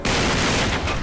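A rapid burst of gunfire in Uncharted 3: Drake's Deception gameplay aboard a ship, loud and dense, a short sustained volley of overlapping shots.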